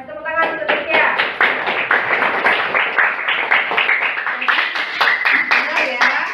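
A classroom of students claps in a loud, rhythmic burst of quick, evenly spaced hand claps lasting several seconds, close and bright, with a few voices mixed in.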